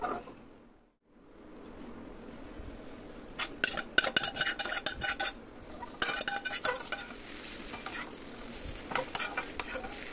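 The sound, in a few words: Maggi noodles stirred together with egg in a kadai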